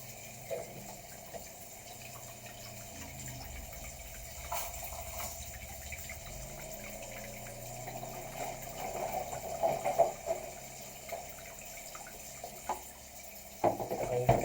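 Chicken pieces being washed under a running tap for a marinade, with steady close water flow and splashing that grows busier toward the end, occasional clunks, and faint speech in the background.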